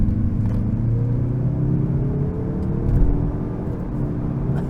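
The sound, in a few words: 2024 Mazda3 Turbo sedan engine accelerating hard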